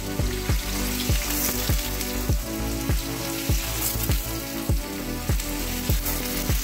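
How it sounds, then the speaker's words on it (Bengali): Potatoes fry in refined oil in a kadai, giving a steady, fairly loud sizzle throughout with a regular run of knocking beats over it and no talk. "এবারে আমি কড়াইতে আলুগুলো ফার্স্ট ভেজে নেব"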